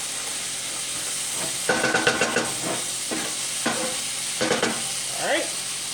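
Curry chicken is stirred in a pot over a steady sizzle, with a spoon scraping and clattering in several short bursts against a constant frying hiss.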